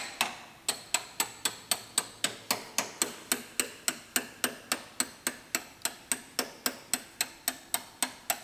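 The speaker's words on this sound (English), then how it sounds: "Yes, I'm using a body hammer" A body hammer strikes sheet metal on a Lexus RX330 body panel in a steady, even rhythm. Around thirty sharp knocks ring close by and fairly loud, each fading quickly before the next.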